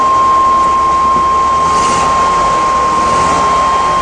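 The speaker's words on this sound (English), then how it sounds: "Runs well." A Chevy Cheyenne 3500 HD boom truck with the 7.4 liter 454 engine runs steadily, a loud, continuous mechanical drone with a thin steady whine on top, and no one talks.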